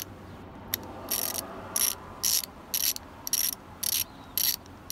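A Craftsman 3/8-inch ratchet from a gunmetal chrome mechanic tool set clicks in about seven short, sharp bursts of rapid pawl ticks, close and loud with brief pauses between strokes and no talking.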